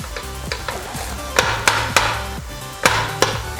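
A spatula stirs and scrapes a hash brown mixture frying in a pan, with a steady close sizzle under several sharp scraping knocks at irregular intervals and no talk.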